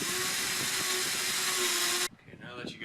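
A power drill bores a hole during house building work on doors and windows. The motor whines loud and steady for about two seconds, then cuts off abruptly, leaving faint handling noise.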